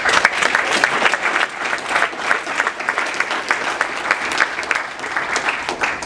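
A banquet audience claps enthusiastically after a fundraising total is announced, a full room of hands beating in dense, lively applause that holds steady throughout.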